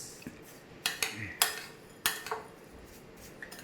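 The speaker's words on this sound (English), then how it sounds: "we will be mixing in the melted butter into the biscuit base" Spoon mixing melted butter into a crushed biscuit base in a bowl, giving a few sharp clinks and scrapes of cutlery against dishware at a steady unhurried pace, close and fairly quiet.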